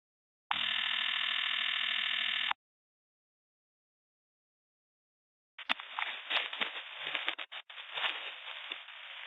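A phone call connecting tone: a steady, loud electronic tone for about two seconds, then silence, then faint handling clatter and rustling.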